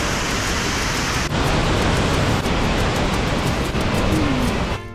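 A large waterfall on a tourist path in Chiapas, southern Mexico, gives a steady, loud, close roar of rushing water that stays even throughout and drops slightly at the very end. No voices are heard.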